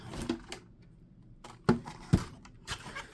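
Paper for craft tags is cut on a trimmer, with a few sharp, close clicks and snaps spaced irregularly among quiet rustling and handling noises.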